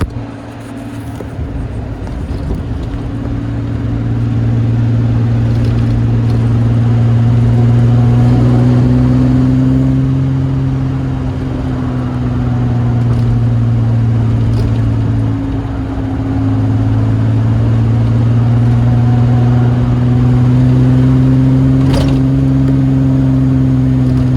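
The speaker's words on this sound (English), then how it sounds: "listen to that exhaust." A 1960s-era Austin Healey 3000 BJ8 sports car exhaust rumbles loudly and continuously as the engine revs and accelerates on a cold drive, the low drone rising and falling with throttle, heard from close inside the car.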